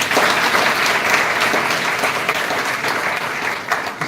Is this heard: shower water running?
no